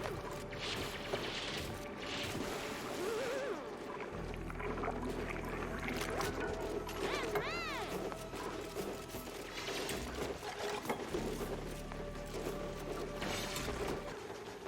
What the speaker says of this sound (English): The mesh tiles are built, so let's go ahead and let the water flow